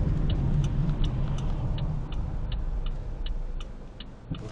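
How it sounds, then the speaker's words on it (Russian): A car's turn signal ticks in a steady, regular rhythm inside the cabin, sitting over a loud low road and engine rumble while the vehicle waits at a red light. "Выключаю поворотник."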